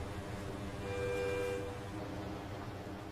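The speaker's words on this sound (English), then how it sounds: "Noisy bloody train too." Train rolling past in American Truck Simulator's Montana map, a steady rumbling wash with a sustained horn tone swelling in the middle and fading, moderately loud and continuous, no talk over it.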